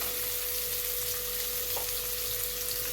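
Chopped onion and a few garlic cloves frying in oil for a mustard tilapia curry, a steady even sizzle close by with a faint hum underneath and no speech.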